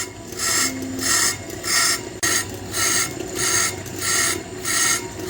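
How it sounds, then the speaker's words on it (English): A brake lathe making rough cuts across a flywheel for a 1976 Dodge D100, a harsh grinding rasp that swells and fades in regular passes about every 0.7 seconds, close and loud, with no talk. "I got the flywheel on the brake lathe here, and we're starting to make some rough cuts"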